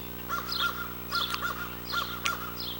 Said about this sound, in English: You hear the crow? They do that every time I come out with the food.